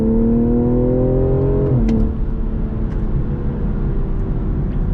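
A 2020 BMW M340i accelerating hard from a 30 mph roll: a loud, close engine drone rises in pitch, then drops sharply at a gear change and continues as a steady rumble with road noise.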